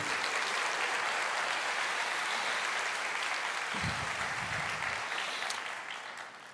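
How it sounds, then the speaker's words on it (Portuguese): A worship congregation in church clapping, a loud, dense and steady wash of applause that holds evenly and fades only slightly toward the end, with faint voices underneath. "Você pode aplaudir o Senhor e dizer: eu creio."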